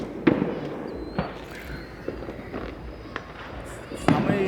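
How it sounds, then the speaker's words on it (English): Fireworks at a town 4th of July show burst in about six distant booming pops spaced roughly a second apart, while people chat nearby. "Don't the fireworks get twice the size of this?"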